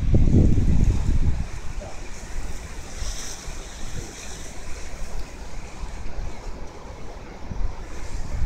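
Waves on the Karelian skerries wash and surge against a shore, with gusty wind buffeting the microphone, loudest at the start then settling into a steady wash.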